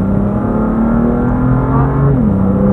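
A car engine on a track session at Circuit de Dreux drones loudly and close throughout, holding a steady pitch before dipping slightly near the end.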